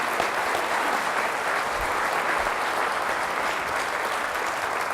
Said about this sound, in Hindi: जोरदार तालियों से खुदा के नाम पे जोड़ो।